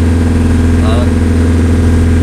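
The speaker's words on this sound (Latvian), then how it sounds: "Ātrāk šī laiva vairs neies." A motorboat engine running flat out on a lobster-fishing trip in the Faroe Islands, a loud, steady, droning roar that dominates throughout with no change in pitch.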